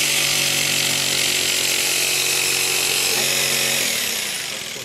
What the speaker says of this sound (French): on va commencer à découper la plaque avec une scie sauteuse